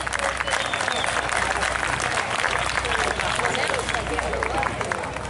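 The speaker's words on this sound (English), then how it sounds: "I want everybody to give a big round of applause to Lee Zeldin" Outdoor summer concert audience in Nesconset gives a big round of applause for Lee Zeldin, a dense, sustained wash of clapping with crowd chatter and occasional voices mixed in.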